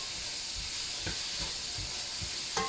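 Peppers, onions and garlic sizzle in a frying pan while being stirred, a steady soft hiss with occasional quiet scrapes and taps of the utensil.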